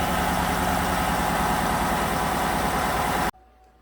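A 2015 GMC 6.2L engine with a tapping noise idles with a steady, close, low rumble and a slight shake, continuous with no talk until it cuts off near the end.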